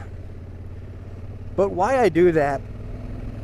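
A Honda Africa Twin DCT motorcycle engine hums at a low, steady idle-like drone while riding off-road, with someone talking over it throughout.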